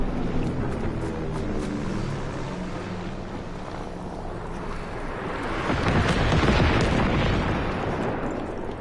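Bombing run in Call of Duty Vanguard, a rolling series of heavy explosions and rumbling booms that swell louder toward the end, continuous and dense with no clear gaps.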